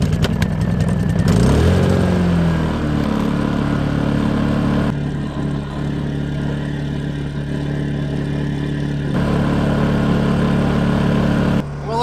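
A small portable generator engine with choke on starts up and runs steadily after a fresh oil change, a loud close droning hum with a rising start-up pitch, then holding a constant note throughout.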